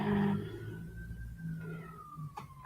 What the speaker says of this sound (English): Hopefully, you cannot hear all the ambulances.